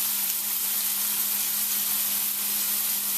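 Paneer roasting in a hot oiled pan, with browned onions already cooking, gives a continuous loud, even sizzle that holds steady throughout and has no talk over it.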